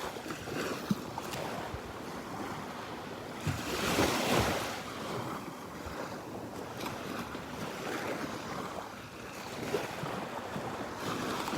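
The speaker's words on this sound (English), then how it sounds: "it is nice being at the beach in the morning." Surf rolling onto the beach in North Naples, Florida on a morning walk, a steady wash of breaking waves with a louder swell around the middle, with light wind buffeting throughout and no talking.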